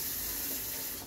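Tap water runs steadily over apples being rinsed at a sink, a close, continuous hissing splash with no voices.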